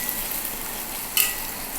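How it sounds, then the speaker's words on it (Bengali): Sesame fritters fry in hot oil in a pan, with a steady bright sizzle and a brief louder crackle as they are flipped, no voices over it. "এবার আমি গ্যাসটা বাড়িয়ে বড়া করে উল্টিয়ে পাল্টিয়ে লাল করে ভেজে নেবো"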